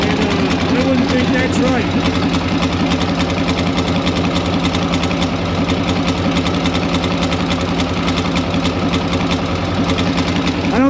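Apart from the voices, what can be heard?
motorcycle engine idling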